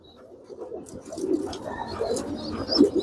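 Pet pigeons, a female and a male, coo softly close by in low throaty murmurs that swell toward the end, with faint chirps above, and no talking.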